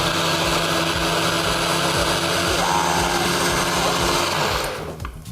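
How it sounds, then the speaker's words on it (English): NutriBullet blender whirring through an almond milk smoothie, a loud steady motor drone that holds for several seconds and then cuts off near the end. "My good friend, the NutriBullet."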